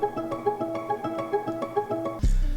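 A hip-hop trumpet loop is layered with a copy pitched down an octave, giving a short, rhythmic brassy phrase with deep added body, ending in a sudden low boom.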